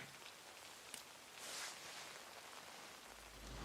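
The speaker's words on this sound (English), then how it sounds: "Notice that's rain." Rain falling in the video game Lost Judgment, a soft steady hiss of drops on surfaces that swells slightly midway, with no voices.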